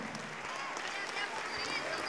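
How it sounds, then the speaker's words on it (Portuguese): Congregation applause at a church service proclaiming Jesus as the Messiah, a continuous wash of crowd clapping with a voice faintly present underneath, steady in level over a short stretch. "Vamos aplaudir mais"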